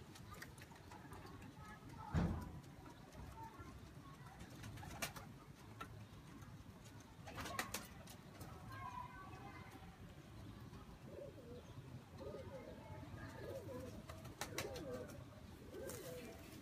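Soft Teddy pigeon cooing in low repeated phrases, with bird calls and a few sharp clicks over a quiet background.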